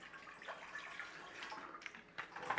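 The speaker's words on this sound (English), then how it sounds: "Go in that pan with some water." Water pours into a cooking pan for bangers and mash in a steady splashing trickle that grows slightly louder and brighter toward the end, heard alone without talk.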